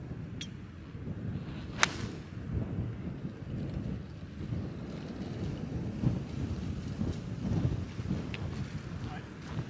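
Strong wind on the Ardglass golf links, a steady low rumble buffeting the microphone throughout, with someone talking over it and a couple of brief knocks.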